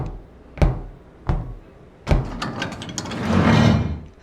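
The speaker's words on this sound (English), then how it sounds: "The heavy steel door knocked Luca to the ground." A heavy steel door bursts open in the Beacon Pines video game, with several sharp, spaced metallic knocks and thuds followed by a swelling scraping rush as the door swings, loud and close.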